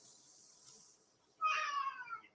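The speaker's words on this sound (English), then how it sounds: "the cat thinks he wants to go outside." A house cat meows once, a loud, drawn-out plaintive call close by, wanting to go outside on a cold, rainy day, after a stretch of soft hiss and quiet room noise.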